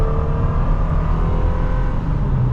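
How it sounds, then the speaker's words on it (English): A second-generation Toyota Tacoma pickup accelerating at half pedal, a loud steady engine drone with low rumble and rising tone, heard from inside the cab without talk. "But it gets right up to speed again at half pedal."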